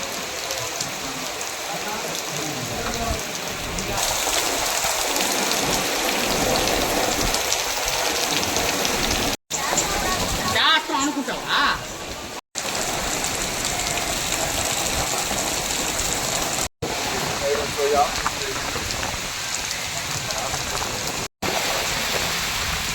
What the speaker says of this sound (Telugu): సాయంత్రంకు అంతా ఒక్కసారిగా ఆకాశం మేఘావృతమై అకాల వర్షం పడడంతో ప్రజలకు ఉపశమనం కలిగినట్లయింది